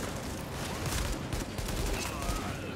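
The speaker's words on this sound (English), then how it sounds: "Got him with that shot." Rapid, dense gunfire from a video game set in Grand Central Station on hard difficulty, overlapping shots rattling continuously throughout with faint voices underneath.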